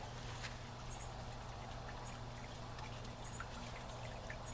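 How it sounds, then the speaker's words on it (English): Water pours from the dispensing tube of a Camelbak AquaSource 20L water tanker as it fills to the top, a steady continuous splashing trickle that holds at an even level throughout, with no talking. "Once you get water coming out of the dispensing tube, that's an indicator that the water tanker is full."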